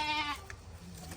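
A goat gives a short, wavering bleat while being wrangled for hoof trimming, loud at first and fading within half a second, followed by faint scuffling.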